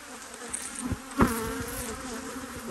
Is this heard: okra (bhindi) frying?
no